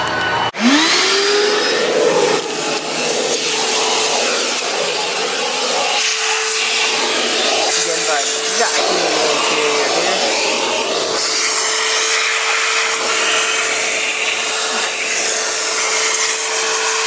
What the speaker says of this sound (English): Basically it was just a vacuum and some light interior work on the steering wheel and the console.